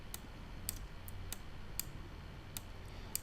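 Sparse, crisp mouse clicks while working in Adobe drawing software, about eight light isolated taps spaced irregularly over quiet room tone.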